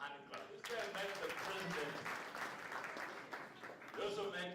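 A seminar audience gives a short round of hand clapping, a brief burst of fairly quiet applause mixed with overlapping talk and voices.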